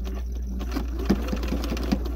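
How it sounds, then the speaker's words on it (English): Bernina 130 sewing machine stitching through a thick jeans hem, running slowly: a steady mechanical hum with soft, evenly spaced needle thumps, close and moderately loud, with no voices. "so just slowly, so make it slowly, run slowly the sewing machine"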